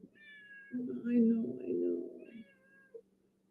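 An orange female cat gives a drawn-out meow nearby, audible briefly beneath a person speaking quietly.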